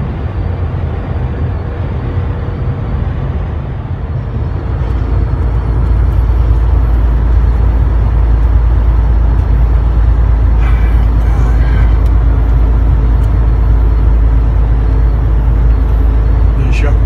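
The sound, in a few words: truck driving on the road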